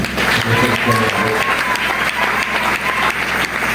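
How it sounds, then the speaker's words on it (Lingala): A church congregation applauding: dense, steady, loud clapping from many hands, with crowd voices and a faint tonal sound mixed in. "acclamons pour le Seigneur"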